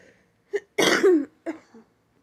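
A sick person gives a short series of coughs and throat-clearing sounds up close, one strong cough in the middle flanked by smaller ones, with no speech.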